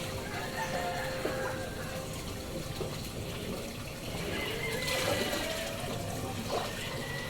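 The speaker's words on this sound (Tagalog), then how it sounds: "lalagyan natin ng tubig." Water pours and splashes softly into a crayfish container holding water lilies, a quiet continuous trickling gush with faint talk in the background.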